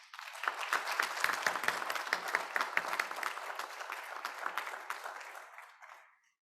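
An audience at a book presentation claps for the panelists in a sustained burst of applause that holds steady for several seconds and then fades away.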